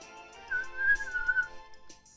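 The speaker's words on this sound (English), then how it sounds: "Whistle!" A person whistles one short, wavering tone for about a second, close and fairly clear against a quiet background.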